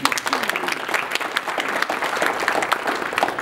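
Audience applause fills a State of the City address in Snoqualmie, a steady wash of many hands clapping at close range that holds evenly throughout without a break.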